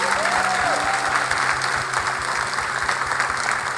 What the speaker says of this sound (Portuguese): Gostava que nós pudéssemos honrar também a vida do Samuel e do Ismael com uma salva de palmas.